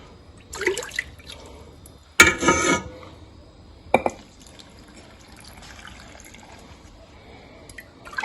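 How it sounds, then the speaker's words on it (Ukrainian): Salt brine being poured into glass jars of tomatoes for pickling, a few short splashing, liquid-filling bursts with light clinks of jars between them, close by, with quiet pauses. "Все, друзі, сіль я розвів. І зараз я буду заливати наші баночки."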